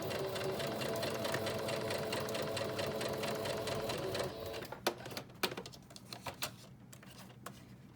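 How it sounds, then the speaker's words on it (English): A sewing machine runs in a fast, even stitching rhythm for about four seconds, then stops, followed by a few scattered clicks and taps. "So excuse the sewing machine, but here we go."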